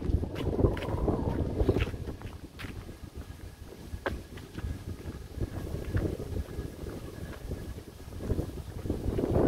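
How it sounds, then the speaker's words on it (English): Steady wind buffeting a microphone outdoors on a hilltop in Södermalm, Stockholm, in autumn, a low continuous rumble with gusty swells, fairly loud and close, no voices. "Windy here on top."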